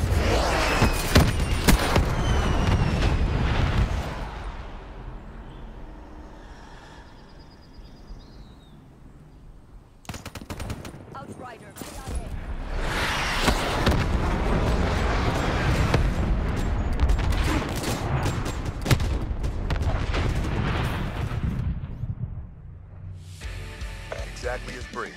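Heavy booms and gunfire-like blasts from a called-in weapon strike in Call of Duty: Black Ops 3, loud and dense at the start, then a quieter stretch before more rumbling explosions return, with voices speaking in between.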